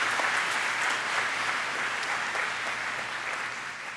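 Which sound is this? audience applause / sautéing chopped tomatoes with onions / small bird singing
audience applause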